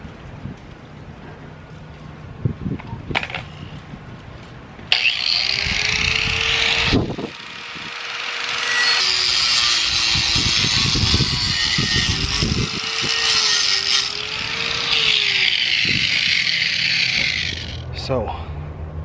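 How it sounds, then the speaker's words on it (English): A loud power saw roars and grinds through concrete in long passes, its pitch dipping as it bites, with a voice heard between cuts. "I have to cut the concrete down"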